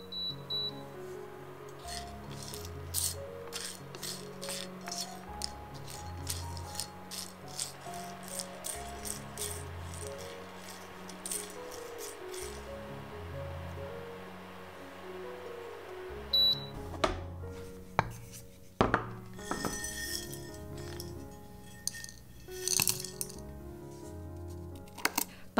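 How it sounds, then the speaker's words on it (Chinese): Dry whole spices for Indian masala chai shift and rattle in a frying pan over low heat, a steady scratchy clatter over a soft low hum, busier and more broken near the end. "把干香料放入平底锅里， 以小火炒出香气。"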